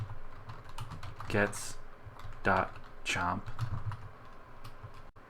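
Ruby code is typed on a computer keyboard in a quick run of close, crisp key clicks that come in short clusters, while someone talks over the tapping.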